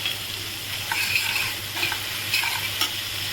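Ground spices, turmeric and Kashmiri chilli powder with salt and a splash of water, are frying and being stirred in a pan for prawn malai curry. A close, steady sizzle comes with soft, repeated scraping strokes and no talk.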